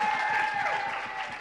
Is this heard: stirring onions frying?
no